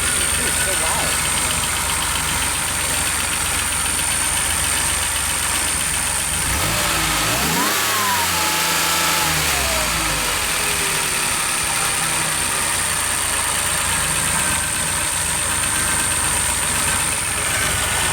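A loud DeLorean engine revs, a rumbling note rising and falling in pitch midway through, close and steady, with a strong high-pitched whine running throughout.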